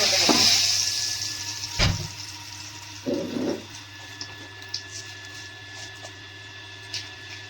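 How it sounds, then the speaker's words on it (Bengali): Dried red chillies and bay leaves drop into hot oil in a kadai, giving a burst of sizzle at the start, then a few sharp pops and clatters over a quieter spitting background. "কড়াইয়ে তেল দিয়ে দিয়েছি ফোড়নে দিচ্ছি শুকনো লঙ্কা তেজপাতা"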